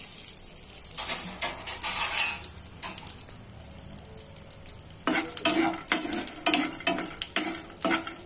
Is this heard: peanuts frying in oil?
yes